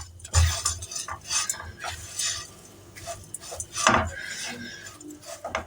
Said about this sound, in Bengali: সেমাইটা কিন্তু ক্রমাগত নাড়তে থাকতে হবে